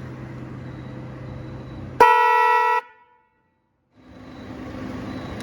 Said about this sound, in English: Bought a pair of these train horns on eBay.